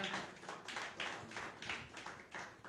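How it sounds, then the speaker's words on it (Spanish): A church congregation claps in a steady rhythm, soft and somewhat distant, with evenly spaced bursts running throughout and no talking on top. "Dale un fuerte aplauso al Señor"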